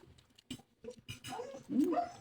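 A dog whimpers and whines at close range, the cries rising toward the end, over a busy background of household clatter during a small birthday gathering.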